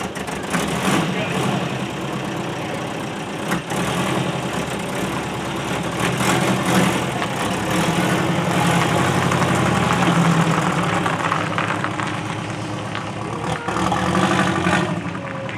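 A worn-out hooptie with a broken transfer case idles with a steady, rough low rumble and a faint knock, held close and continuous throughout while someone talks over it.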